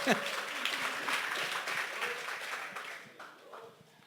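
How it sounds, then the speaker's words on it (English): Audience applause at a talk, a broad steady wash of clapping that is fairly faint and tapers off toward the end, with a voice faintly present under it. "They get a round of applause after every response."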